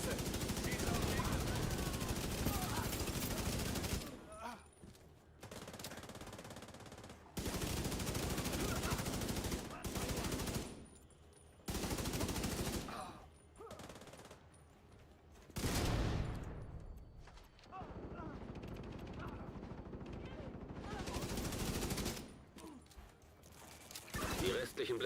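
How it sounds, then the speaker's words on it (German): Bursts of automatic gunfire in The Division 2, loud rattling volleys broken by short quiet gaps, with voices talking between and under the shooting. "Feindkontakt! Okay, ich schieße."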